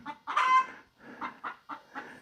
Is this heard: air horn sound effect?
no